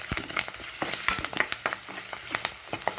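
Five or six large green chillies frying in oil over high heat, a close, busy sizzle with repeated spatula scrapes and stirring clatters throughout, no talk.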